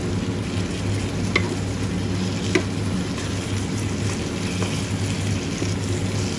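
Crispy pork deep-fries in hot oil, giving off a steady, close bubbling sizzle with a few sharp pops and crackles scattered through it.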